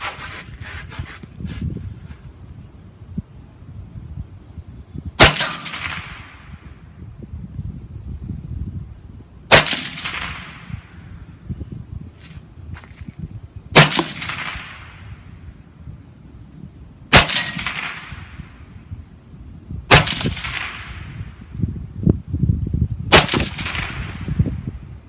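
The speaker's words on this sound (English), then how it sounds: "we will shoot with the sound suppressor" An MK12 MOD1 rifle fitted with a sound suppressor fires six sharp, muffled shots spaced a few seconds apart. Each crack is followed by a brief decaying tail over quiet outdoor background noise.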